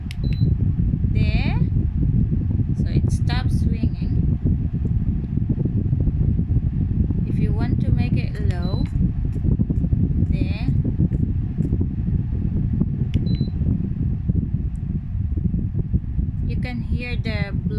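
A 30-inch tower fan blows air with a constant, dense whoosh that holds steady throughout, close to the microphone, while a person talks over it in short bursts with clicks and beeps from the controls.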